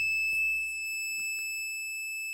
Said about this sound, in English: So buzzer is on